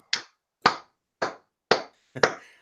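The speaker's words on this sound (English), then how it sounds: "Round of applause for Shady." Five slow, evenly spaced claps ring out in near silence, each sharp and distinct with a short decay, the last doubled slightly.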